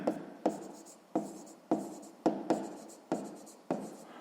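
Pen writing by hand in a notebook for a sixth-grade math exercise: quick scratchy strokes come in about seven bursts, each starting sharply and trailing off, close up with no speech.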